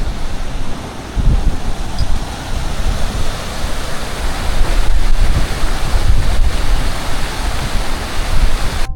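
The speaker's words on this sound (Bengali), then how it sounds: "এখানে ব্রিজ বানিয়ে দেওয়া আছে, আর জলটা এই ওপর থেকে আসছে।" Mountain stream water rushes down from above beneath a footbridge on the high-altitude Adi Kailash trail, a steady broadband roar mixed with wind buffeting the microphone.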